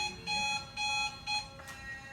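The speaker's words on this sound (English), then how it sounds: "the alarm went off." A beeping alarm clock goes off during a clay workshop, sounding in three steady, evenly spaced bursts of bright electronic tones, with a shorter fourth chirp near the end, moderately close in an otherwise quiet room.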